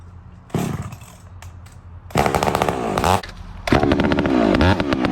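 A chainsaw cuts into a tree with a severe back lean. The engine revs in three loud, close bursts with lower idling between them and no talking.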